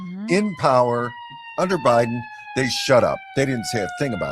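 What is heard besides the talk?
fire truck sirens passing on road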